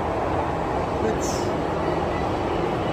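A Hong Kong light rail train passes close by as a steady, loud, broad rumble that fills the whole stretch, with people's voices faintly underneath.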